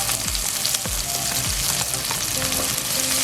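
Garlic and onions fry in hot oil for a pork menudo, a steady close sizzle with occasional stirring scrapes and pops, no voices.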